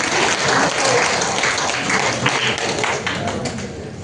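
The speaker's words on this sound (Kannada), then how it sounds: "ಅದಕ್ಕೆ ಫಸ್ಟ್ ನೀವು ಚಪ್ಪಾಳೆ ತಟ್ಕೋಬೇಕು" Loud, continuous applause from an audience at a dietitian's food-advice talk, a dense patter of many hands clapping without pause.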